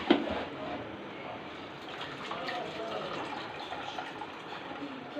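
Drained soaked rice tips into a pot of boiling water for beef pulao, giving a soft, continuous watery rush and bubbling that stays fairly quiet throughout.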